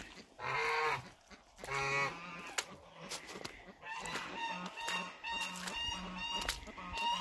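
Geese, including chocolate Muscovies, honk repeatedly in loud, nasal bursts, several birds calling over one another in an irregular series.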